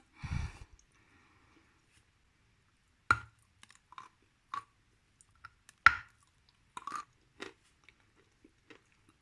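Biting and chewing Bashkir edible clay: sparse, close crunchy bites and clicking chews separated by silent pauses, plus a breathy sigh at the start, no speech.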